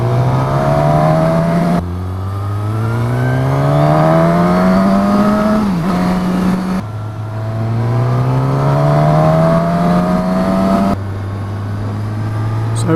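A 2019 Suzuki Katana motorcycle with a 150-horsepower engine accelerates hard through several gears, its loud, close engine note climbing in pitch and then dropping at each shift.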